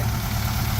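A Ford Capri's reconditioned engine idles steadily with a deep, even rumble and throb, close and loud, with no voices.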